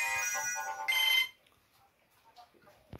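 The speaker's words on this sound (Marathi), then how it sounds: "एक मिनिट मित्रांनो, फोन घेतो कोणाला।" A mobile phone plays a ringtone for an incoming call, with a bright melodic tone lasting just over a second before cutting off into quiet room noise, close to the listener.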